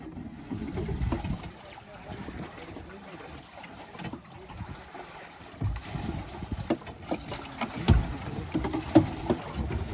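Strong wind at sea buffets a fishing boat at night, a steady rough rush with gusty bursts and low rumbling thumps, loud and close around the microphone.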